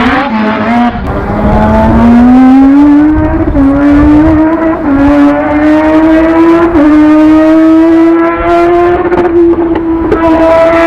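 A Mazda race car, Mad Mike's 4-rotor twin-turbo machine, screams loudly and continuously nearby. A rising, harmonic-rich engine tone climbs steadily across the whole stretch, with brief dips and catches as it revs, and no talk.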